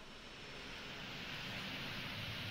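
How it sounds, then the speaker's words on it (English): Boeing 737 auxiliary power unit and jet engines winding down in a flight simulator game, a steady broad whooshing engine roar at moderate level, continuous with no talk. "the APU's still shutting down, or the jet engines are still shutting down"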